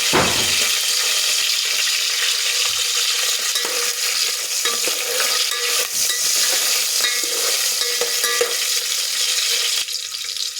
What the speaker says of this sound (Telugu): నేను ఆనియన్స్ వేసుకుంటున్నాను.